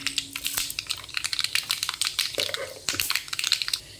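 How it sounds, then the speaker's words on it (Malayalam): Mustard seeds spluttering and popping in hot oil in a pan while cooking a prawn dish, a dense crackle of sharp close pops in quick irregular bursts, with faint voices in the background. "നമുക്ക് എണ്ണ ഒഴിച്ച് കടുകിടാവേ അതിലേക്ക് നമ്മൾ കടുക് ഇട്ടിട്ടുണ്ട്"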